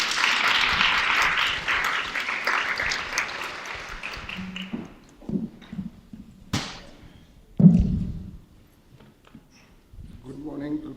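Applause from a workplace readiness training audience, a dense wash of clapping that fades out over about five seconds, followed by scattered knocks, thumps and brief voices in a quieter room.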